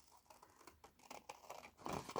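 Scissors cut through a scrap of fabric in a craft room, giving soft, quiet crinkling snips in an irregular series that grows a little louder near the end, with no voices.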